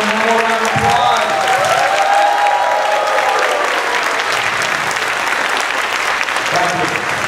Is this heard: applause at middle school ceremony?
yes